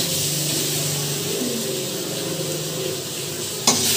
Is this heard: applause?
no